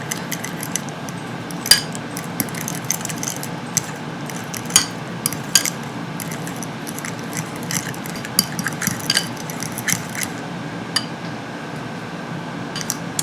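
A spoon mixes cooked freekeh with freshly cracked pepper in a bowl, giving soft repeated scraping and clinking taps at an uneven pace, close and fairly quiet, with no talk.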